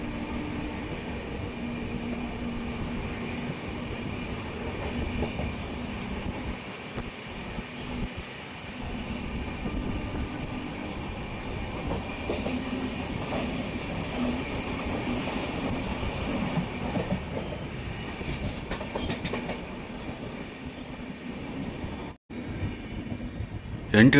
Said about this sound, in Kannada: ನಮ್ಮ ಟ್ರೈನ್ ಈಗ ಬೆಳಗಾವಿ ಸಿಟಿಗೆ ಅರೈವಲ್ ಆಗ್ತಿದೆ